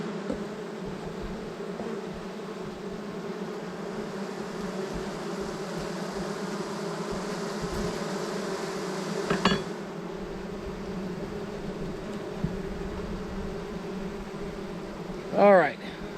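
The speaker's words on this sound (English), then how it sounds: "See a lot of bee action going on while I do this." Bees drone steadily around a hive on a ranch, a dense continuous buzz close by, with a couple of brief handling knocks and a short louder burst near the end.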